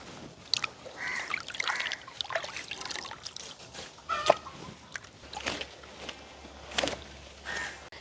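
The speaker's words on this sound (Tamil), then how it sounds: "நாங்கள் ஒரு ரெண்டு தண்ணியில் நல்ல வடிவாக கழுவி எடுப்போம்" A large arakkula fish is rinsed in a basin of water while cooking outdoors in a village, with irregular sloshing, trickling and splashing from close by and scattered clatters.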